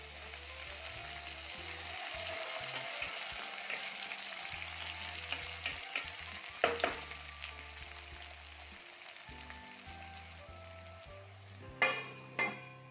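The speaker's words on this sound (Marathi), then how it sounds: "आता यामध्ये आपण बारीक चिरलेला थोडा टोमॅटो टाकूया" Chopped tomato sizzles with onion in a pan for a potato recipe, a steady close frying hiss with a few louder stirring clatters and scrapes of utensil against the pan.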